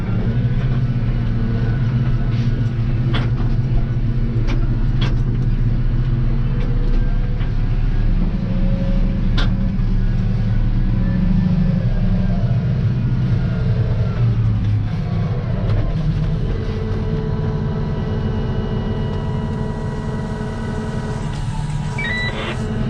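A tractor hauling the last trailer of corn silage tips its load onto the silage pile, a steady loud engine rumble with low droning and revving throughout, no talk.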